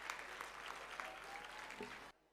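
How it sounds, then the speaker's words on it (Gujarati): Applause at an Om School annual function welcoming a guest, a steady wash of clapping from the audience that cuts off abruptly near the end, fairly faint overall. "જોરદાર તાળીઓ સાથે આપણે તેમને વધાવીએ"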